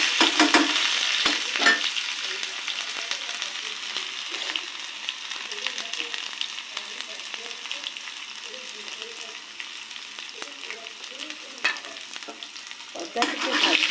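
Crushed ginger and cumin seeds frying in a pan for a potato dum curry: a continuous, fairly loud sizzling hiss, busier at the start and end where stirring stirs it up, with faint crackles beneath.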